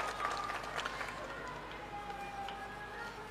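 An audience claps to welcome a guest at a public gathering, a dense patter of applause at moderate loudness that fades slightly toward the end.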